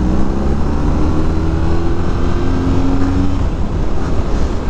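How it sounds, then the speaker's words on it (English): A 2022 BMW R nineT motorcycle with an Akrapovic 2-into-1-into-2 dual exhaust runs loud and close, its engine holding a steady rumbling drone with slight pitch shifts throughout. "And a nice sounding Akrapovic a dual exhaust."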